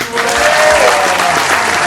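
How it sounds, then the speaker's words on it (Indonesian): Audience applause from a small crowd of around twenty people at an indoor food event featuring Batak noodles, dense and steady for about two seconds, fairly loud and close. "Boleh tepuk tangannya para audiens?"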